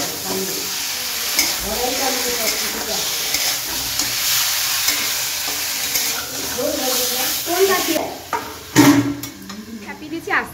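Meat stirred and frying in a pan in a home kitchen, a steady sizzle with repeated scraping strokes of a spoon against the pan and a few metallic clanks near the end, while people talk throughout.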